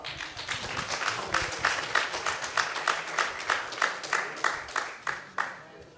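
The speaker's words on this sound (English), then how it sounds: "let's give them all a round of applause" Audience applause at an annual wrongful conviction summit, moderately loud at first, then thinning into a slowing rhythm of sparse individual claps before fading.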